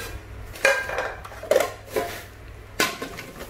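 A Japanese frying pan, about 28-29 cm across, is picked up and set down, giving a few separate metallic clanks and knocks with quiet gaps between them.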